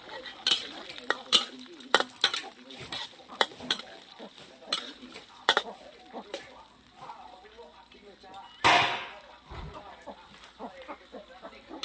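Live crickets being fried and stirred in a pan, with repeated sharp scraping and clinking clicks of a utensil against the pan over a low background sizzle, and one louder burst near the end; a voice speaks at times.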